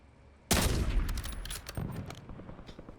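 Video game gunfire cracks out suddenly after a quiet moment, a loud sharp burst followed by a ringing tail and a second, softer shot about a second later.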